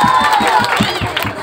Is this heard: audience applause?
yes